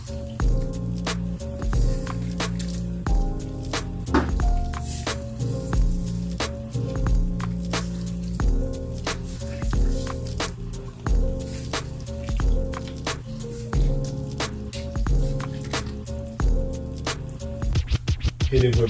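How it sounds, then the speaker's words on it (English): Spoon stirring Lipton onion soup mix into beef stew in a crockpot, repeated wet scraping and squelching strokes in a steady rhythm, close and clear, with a quick flurry at the end. "Just take and stir it real good."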